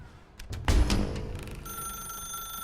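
Telephone in The Stanley Parable, a thump followed by a ringing bell tone that continues as a steady high electronic ring near the end, heard alone at moderate loudness.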